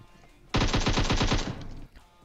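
Rapid automatic gunfire from a PUBG Mobile match, a loud burst of about ten closely spaced shots lasting just over a second, then a quieter ambient tail.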